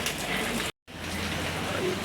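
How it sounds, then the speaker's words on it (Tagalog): Rain falling during a typhoon in Bombon, Camarines Sur, a steady hiss of drops on surfaces broken by a brief dropout, with faint voices underneath. "Ayan guys, mga umuulan."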